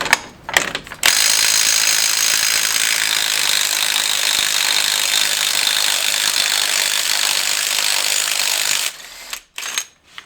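An impact gun rattles loose a rusted, tight front brake caliper bolt on a Ford Transit Custom, a loud continuous hammering burst lasting several seconds after brief opening taps, then stopping abruptly.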